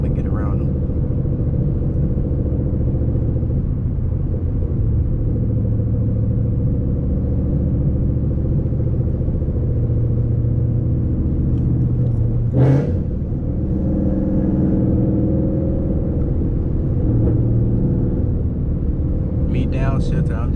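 Loud, steady low engine drone from a Ford Mustang GT S197 on a street drive, with a brief sharp burst around the middle as the engine is downshifted, heard from inside the car.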